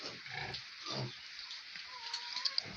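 Piglets of a sow on a farm give faint, low grunts and soft snuffling oinks in a short burst, heard fairly distantly over a quiet background hiss.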